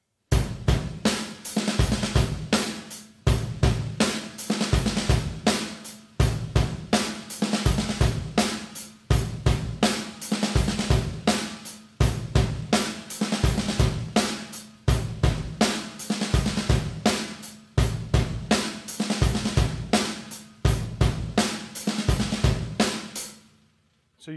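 Full drum kit playing a repeating groove exercise with triplet fills placed on the ends of beats two and three, loud and steady with sharp regular hits and cymbal wash for about twenty-four seconds, no talking.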